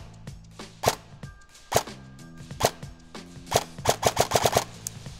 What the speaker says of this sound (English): I'm going to start shooting and you're going to see where the BBs are going.